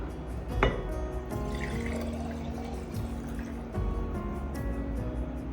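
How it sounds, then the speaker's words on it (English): Fire cider tonic, a homemade immune-boosting liquid, being poured from a large container into a smaller one: a steady close trickle and gurgle with a brief clink of the container near the start. "Large container of Fire-Cider, it will now fill 2 containers."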